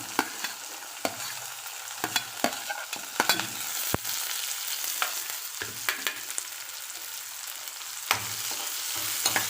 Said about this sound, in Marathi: बारीक चिरून घेतलेला कांदा फोडणीला घालत आहे